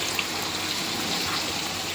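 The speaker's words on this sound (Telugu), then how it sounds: "గ్రేవీ కోసం కొద్దిగా వాటర్ అయితే యాడ్ చేస్తున్నానండి" Water pouring into a pan of green chilli chicken gravy, a steady close gush that runs without a break for the whole stretch.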